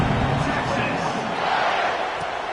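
A stadium crowd roars steadily in a college football video game, a dense, loud wall of cheering that holds throughout with no pauses.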